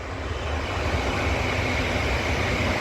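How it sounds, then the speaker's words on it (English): A London Metropolitan Line train rumbles past, a loud, broad, continuous roar with a faint high whine on top and no voices. "Oh, I'm getting interrupted by a train."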